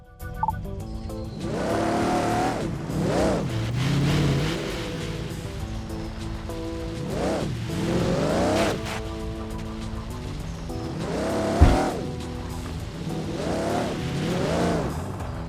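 An off-road vehicle in the video game Overpass 2 drives over rough terrain, its engine revving up and down in repeated surges with one sharp thump, loud and continuous.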